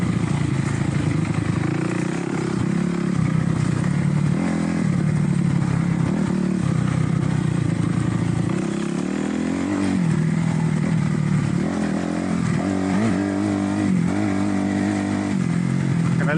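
Dirt bike engine on a slippery wooded trail, its throttle blipping and revving in uneven surges with clattering as the rider tries to climb over a small log; the motor stays loud and close throughout.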